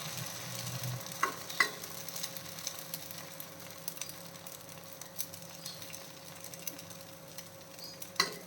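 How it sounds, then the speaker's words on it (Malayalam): Oats dosa batter fries on a hot, oil-greased dosa pan with a soft, steady sizzle, broken now and then by faint clicks and taps, with no talking. "ദോശ പാൻ ചൂടായിട്ടുണ്ട് ഇനിയിപ്പോൾ ഓയിൽ ഗ്രീസ് ചെയ്ത് കൊടുക്കാം ദോശ മാവ് കൊടുക്കാം"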